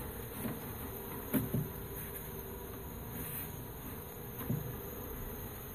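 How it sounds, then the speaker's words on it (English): A honey bee swarm buzzes steadily and close, a dense droning hum with a few louder bursts as bees pass near, heard alone without speech. "Buzzing almost sounds like electronic music."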